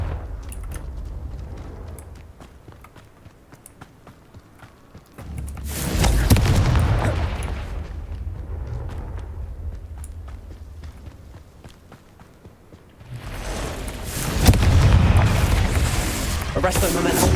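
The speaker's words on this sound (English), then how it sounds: "Confringo!" Confringo spell explosions in the video game Hogwarts Legacy come as two heavy, rumbling booms that swell and linger for several seconds each, separated by quieter stretches of scattered footsteps and small clicks, with a voice speaking over them.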